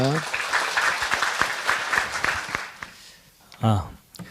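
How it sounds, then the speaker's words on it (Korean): An audience applauds in welcome as a professor comes out at a creation science seminar, a steady wash of clapping for about three seconds that fades before a voice speaks. "박수로 환영하겠습니다"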